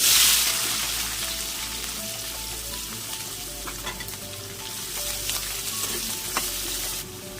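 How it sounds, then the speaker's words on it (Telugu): Mustard seeds, cumin and chopped onions sizzle steadily in hot oil, a dense continuous fry with small crackles and occasional stirring, close and fairly loud throughout. "ఇప్పుడు ఇందులోనే ఆవాలు జీలకర్ర మనం ముందుగానే తరిగి పెట్టుకున్న ఉల్లిపాయలు"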